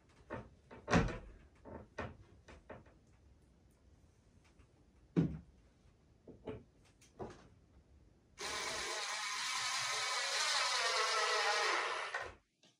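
A cabinet door fitted with a gas strut makes several close knocks and thumps while it is opened, closed and adjusted. A loud, steady power-tool whir then runs for about four seconds and stops abruptly.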